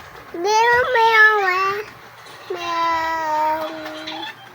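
A young child imitates a cat, singing two long drawn-out meows in a high voice with pitch slides, close and clear over a quiet room.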